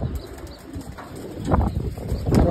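Pigeons in a home loft coo and shuffle close by, with soft overlapping calls and occasional wing flutters against a steady background.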